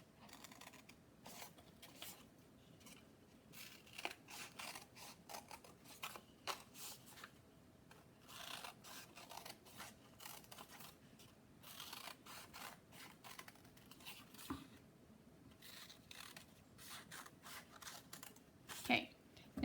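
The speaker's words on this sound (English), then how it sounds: "keep doing that until I get all of my lines cut" Scissors snipping a series of cut lines into a folded sheet of paper for paper weaving, heard as quiet, irregular crisp snips spread across the stretch over faint background noise.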